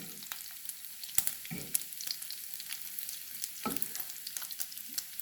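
Bacon cooks slowly in its own rendered fat over lowered heat on a Sunday morning, producing a gentle, constant crackle and spit with occasional louder pops and a few utensil scrapes, close and unaccompanied by speech.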